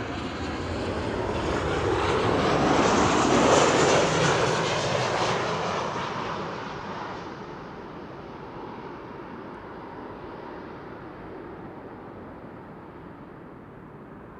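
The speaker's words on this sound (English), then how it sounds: "This is KLM flight 1930, arriving from Geneva." KLM flight 1930 from Geneva landing at Amsterdam Schiphol Airport, a loud jet engine roar that swells over the first seconds and then fades into a steady, distant rumble.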